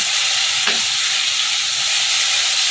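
Water splashed onto ground spices sizzling in a pan for fish kalia, a loud steady hiss and sizzle throughout with a brief splash near the start.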